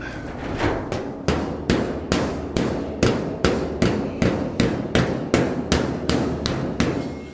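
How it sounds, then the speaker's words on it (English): A steady series of sharp hammer strikes on the metal body of a 1938 custom Cadillac, about two per second, loud and close with ringing decays between blows. "I'm gonna hammer this down, and we'll push up the last bit"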